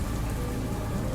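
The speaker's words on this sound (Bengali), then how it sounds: "ধীরে ধীরে বৃষ্টির বেগ কমে এলো।" Steady rain patters and hisses on a surface during a storm scene in a Bengali audio story, a brief, even wash of drops with a faint low rumble beneath.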